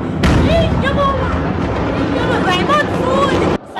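A violent explosion in which a couple was caught in flames gives a loud, sustained broadband roar lasting several seconds, with shouting and screaming voices rising over the blast.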